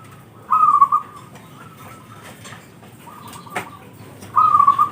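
A perkutut zebra dove of the pancuran mas type gives soft, clear whistled coos, a short phrase at the start and another at the end, with faint fluttering and rustling between.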